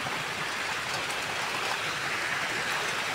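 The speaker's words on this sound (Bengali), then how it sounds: "বৃষ্টির এই ঝমঝম শব্দ দুনিয়ার সব থেকে বড় মিউজিক" Heavy rain falls in a constant dense roar of pattering drops, loud and close, with no voices and no letup across the short stretch.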